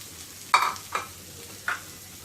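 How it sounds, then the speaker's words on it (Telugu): Boiled potato pieces land in a pan of cumin and oil for jeera aloo, making a few short bursts of sizzle and a stir against a quiet background, close and clear, with no talking. "తరువాత ఉడికించి పెట్టుకున్నటువంటి బంగాళదుంప ముక్కలను వేసుకొని"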